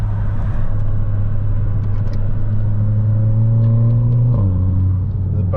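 A stock Volkswagen MK5 GTI engine revs at night with a loud, close, droning rumble. The pitch climbs steadily, then drops as the revs fall, suggesting a gear change.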